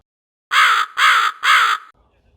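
A crow caws three times in quick succession, each call loud, harsh and close, followed by near silence.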